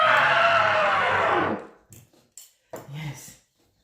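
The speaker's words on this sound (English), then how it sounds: "Put the cushion to your mouth and scream." A loud scream muffled into a cushion, a sustained broad burst lasting about a second and a half, then a few short breaths and murmurs afterwards.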